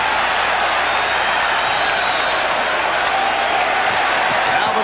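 A packed basketball arena crowd roars steadily during a 1992 Bulls versus Knicks playoff game, a dense, unbroken wash of cheering that stays loud throughout.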